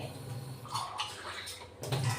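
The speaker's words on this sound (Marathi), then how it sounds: "अजून 1 ग्लास पाणी टाकून घेऊ" Water poured from a glass into a pot of boiling peanut pods, a fairly steady splashing pour that swells near the end.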